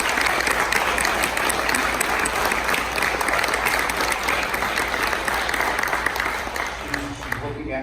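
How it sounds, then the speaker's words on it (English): An audience gives a round of applause to honor a couple at a recognition event. Dense, steady clapping fills the whole stretch and stays loud and close before thinning slightly at the end, with a voice faintly under it. "let's give them a round of applause"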